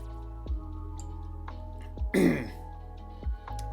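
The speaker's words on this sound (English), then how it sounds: "Clear my throat." A man clears his throat once in a short, rough, gravelly burst, preceded and followed by a few soft clicks and taps over a quiet low hum.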